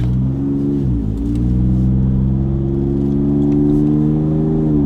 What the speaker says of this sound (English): Let's get the Raptor out in the highway, see what it sounds like.